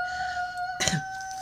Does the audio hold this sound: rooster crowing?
yes